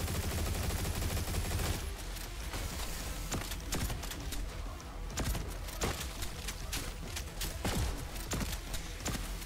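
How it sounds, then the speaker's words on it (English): Rapid chain gun fire in the fast-paced shooter Turbo Overkill, a dense continuous stream of shots with sharp louder bursts over a busy game soundscape, no voice heard. "I will actually switch to the chain gun for these guys."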